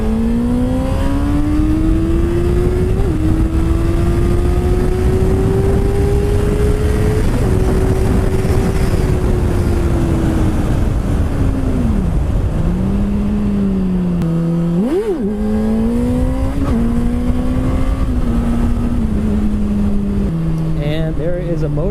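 A 2015 Honda CBR 600 or 2011 Harley Superglide motorcycle ridden on the road, its steady engine note rising and falling with throttle and gear changes, loud and close with rushing wind throughout.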